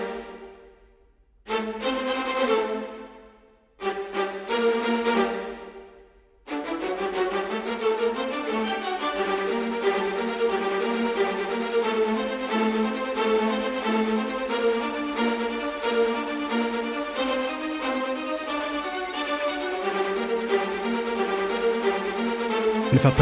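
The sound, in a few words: high strings played with MIDI orchestral samples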